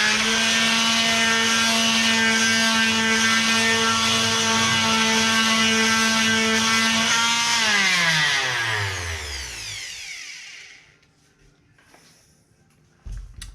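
A Bosch Professional GSS 140 220-watt orbital sander runs loudly on a small piece of wood with a steady buzzing whine, then winds down in pitch and falls silent, followed by a faint knock.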